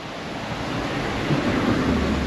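A steady, loud rush of water at Aliyar Dam, Pollachi, roars without pause, a broad wash of noise that swells slightly toward the end.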